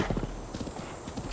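Horse hooves galloping in the video game Breath of the Wild, a quick rhythmic clip-clop pattern that runs steadily through the short stretch at a moderate level.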